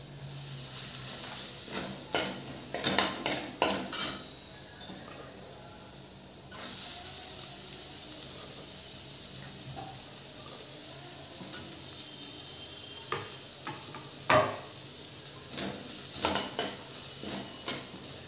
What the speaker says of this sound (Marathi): कांदा छान लालसर होऊन द्यायचा